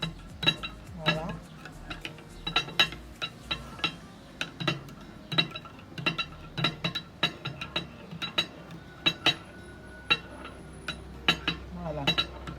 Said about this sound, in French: mélangez bien comme il faut